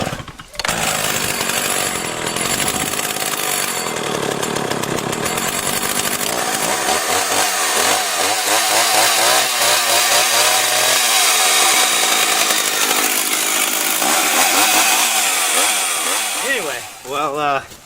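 STIHL MS391 chainsaw, used for bucking and milling wood, running loud and close with a rough buzzing idle that rises into revving, wavering whines and dips at the end.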